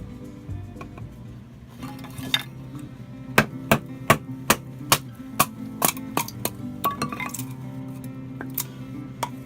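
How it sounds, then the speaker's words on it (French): The sharp blade of a Bear Grylls knife is worked into a piece of wood, producing a run of about a dozen crisp, evenly spaced knocks and clinks over a low background hum, close and fairly loud. "Il n'a aucune misère à pénétrer dans le bois grâce à sa lame très tranchante."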